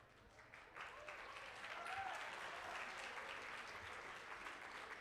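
Audience at a PES University RR Campus graduation convocation breaks into sustained applause, a steady wash of clapping from a large hall crowd, heard at moderate distance with no talk over it.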